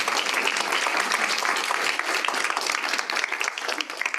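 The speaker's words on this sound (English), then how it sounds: "And I applaud you, Terry." Applause from an audience at a community partnership board meeting, a dense, steady patter of many hands clapping at close range throughout, slightly thinning toward the end.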